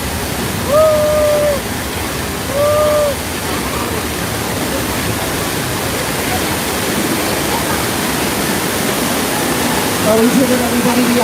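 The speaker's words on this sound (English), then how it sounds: "the water main just broke. Look out!" Rushing flood water from a staged water main break on the Universal Studios Hollywood tour: a steady broad roar of gushing water throughout, with brief tonal effect sounds and people's voices near the start and end.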